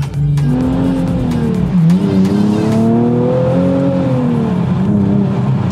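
A Japanese sports car with a large naturally aspirated engine accelerates hard on new, unbroken-in tyres, spinning its wheels; the loud engine note climbs steadily in pitch, with tyre squeal throughout and close and continuous.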